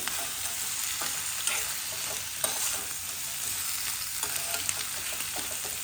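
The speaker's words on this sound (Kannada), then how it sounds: "ಫಸ್ಟ್ ಏಡಿ ಹಾಕಿದಾಗ ಈ ರೀತಿ ಕ್ಲೀನಾಗಿ ಎಲ್ಲ ಮಿಕ್ಸ್ ಆಗೋ ಹಾಗೆ" Sea crab masala with onion and turmeric frying over a medium flame: a dense, loud, continuous sizzle with scattered crackles and the scrape of stirring, with no voices.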